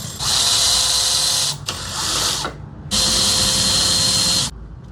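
An electric driver spins out the 6mm Allen bolts holding the floorboard on an Indian Challenger motorcycle, two loud whirring bursts of a couple of seconds each, close up, with a short softer run between them.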